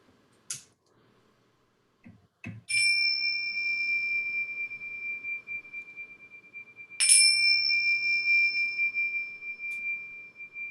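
A small bell rung at the opening of a church service, two clear bright strikes several seconds apart, each ringing out with a long sustained tone over faint room noise, preceded by a few soft clicks.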